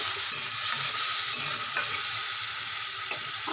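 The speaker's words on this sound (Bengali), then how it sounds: "এবার এটা একটুখানি কষাবো" Potatoes frying with a spice paste in a pan give a steady close sizzle, with occasional soft scrapes of stirring and no voices.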